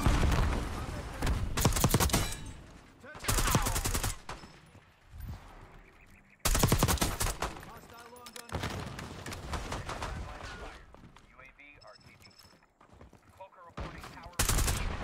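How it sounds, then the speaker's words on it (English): Loud bursts of sniper and rifle gunfire in Black Ops 6 multiplayer, Krig C build in play, several sharp shots and rapid volleys separated by short lulls, with excited talk around the shots. "Oh my god, he's sniping."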